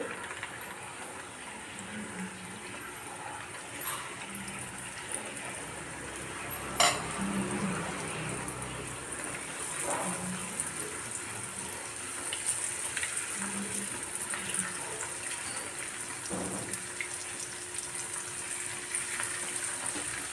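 Potato pieces fry slowly in oil over a low flame for honey chilli potatoes, a soft, steady bubbling hiss with a few faint clinks of a utensil, fairly quiet and continuous, no voices.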